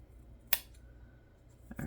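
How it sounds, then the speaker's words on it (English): A single crisp snip of scissors trimming the crooked edge of a long, skinny strip in a garden craft project, one sharp close cut in an otherwise quiet room, followed by a faint rustle. "trim that edge up"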